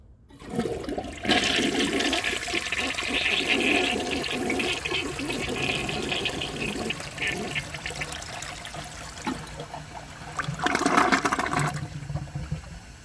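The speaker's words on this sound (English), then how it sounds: "I am going to give it another flush to see if it can take the rest of this dirt" A 1978 Peerless toilet flushing while clearing dirt and rocks from the bowl: a long, loud rushing swirl of water that settles into trickling refill, with a brief surge near the end.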